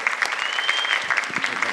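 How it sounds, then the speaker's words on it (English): Church congregation applauding, a dense steady patter of many hands clapping at close range, with a few faint voices mixed in. "let's give them one more hand clap today"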